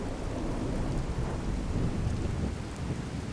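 Steady rain pours down with rolling thunder in the Fallout 4 wasteland at the Sanctuary settlement, a dense, continuous hiss and rumble with no voices.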